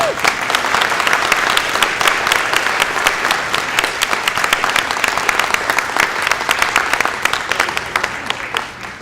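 An audience at a catering event applauds catering students with dense, sustained clapping that stays loud and steady throughout.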